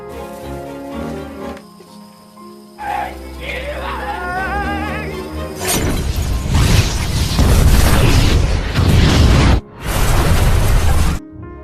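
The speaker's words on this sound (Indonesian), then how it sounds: "mati dalam ledakan tersebut" A loud, sustained roaring blast with crackling debris dominates, cut by a brief silence, then resumes; earlier, a creaking mechanism and faint warbling tones.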